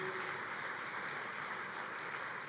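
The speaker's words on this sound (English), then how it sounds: "please give them a round of applause for all their support" Conference audience applauding sponsors at the NICE Conference and Expo welcome session. Steady, dense applause continues at an even level throughout.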